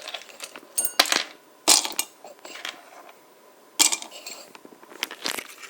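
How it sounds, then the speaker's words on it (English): Ice cubes clatter into a mug in a few sharp, bright bursts with rattling in between, close up and without talk, while an orange Gatorade Zero Sugar iced drink is being prepared. "you put the ice cubes into this mug"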